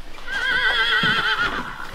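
A horse inside a barn gives a loud, wavering neigh close by, lasting over a second, with a few soft hoof thuds and shuffling around it.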